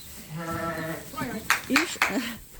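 A sheep gives a drawn-out bleat, followed by a couple of shorter, sharper calls nearby; a person speaks briefly between them.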